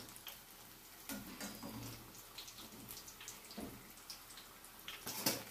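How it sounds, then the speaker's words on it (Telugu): Onion bajji frying in hot oil over a medium flame, a steady close sizzle and crackle with scattered pops and bubbling bursts throughout. "మీడియం ఫ్లేమ్లో ఇలా అన్ని వైపులా వేగనివ్వాలండి."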